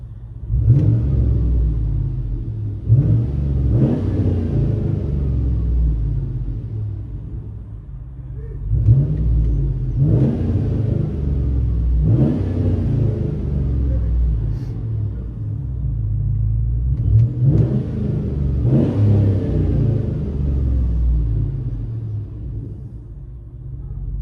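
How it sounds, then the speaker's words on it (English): Car fitted with a prototype aftermarket muffler, heard from inside the cabin: a deep exhaust rumble that swells in several repeated revs, each rising and falling, with a steady low drone between them. "Let you guys hear on the inside."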